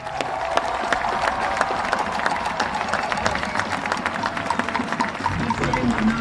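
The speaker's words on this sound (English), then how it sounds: "So give all of yourselves a big round of applause." Crowd applause filling a soccer stadium after a league final, a steady spread of many hands clapping with sharp individual claps standing out, moderately distant.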